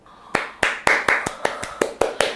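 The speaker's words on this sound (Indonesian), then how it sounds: "Tepuk tangan riuh menyelimuti sisi ruangan audisi." Crisp hand claps ring out about nine times in a steady, evenly spaced rhythm, loud and close, serving as applause in a children's story set at a forest audition room.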